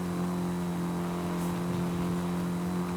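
In Forza Horizon 5, an all-wheel-drive car on race tires holds a steady, droning engine note at a fairly even pitch, loud and continuous without clear spikes in revs.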